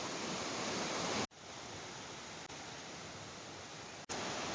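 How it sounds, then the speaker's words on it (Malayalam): Waterfall on a single river in Jharkhand, spread over many small and large falls, giving a steady, close, broadband rushing roar of water with no talking, broken by a couple of abrupt cuts. "ചെറുതും വലുതുമായിട്ട് ഒറ്റ നദിയിൽ നിന്നുള്ള വെള്ളച്ചാട്ടം"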